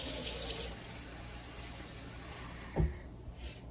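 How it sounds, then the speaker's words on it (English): Water runs from a tap with a steady hiss while being added to a stinging nettle green smoothie, then cuts off near the end, followed by a brief low clunk. "So I'm going to add a little water to this."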